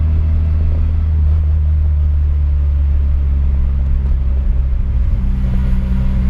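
Turbocharged car with stock injectors, basic turbo kit and original clutch, bouncing off the rev limiter inside a tunnel: a loud, steady low engine drone fills the cabin, with a slight stutter near the end and no talk.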